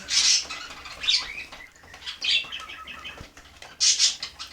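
Pigeons feed on scattered grain close by, with soft pecking and patter, rustling and brief wing flaps, and bursts of squawky calls every second or so.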